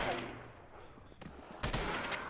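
Gunfire in Call of Duty: World at War zombies mode on the Kino der Toten map: a few short bursts of rapid shots, fairly faint and low in the mix.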